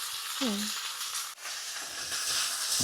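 Steady hiss and sizzle of veal frying in a hot pan, with a brief clink near the start.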